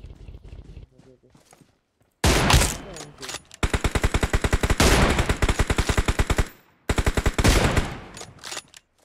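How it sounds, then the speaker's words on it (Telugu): Gunfire from a PUBG/BGMI mobile battle royale match: loud bursts of rapid automatic shots in long rattling strings, separated by short silences, with a single sharp report opening the exchange. "ఆగో స్నైపర్ షాట్ తీసుకుంటా."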